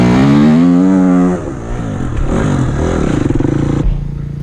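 A struggling, poorly running Honda dirt bike ridden up a steep hill, its engine revving loud and close with a harmonic whine that drops into rough, clattering strain and uneven bursts of throttle.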